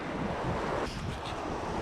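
A creek in Australia's Snowy Mountains rushes in a dense, steady wash at a crossing. The broadband noise is mixed with wind buffeting the microphone, with no voices.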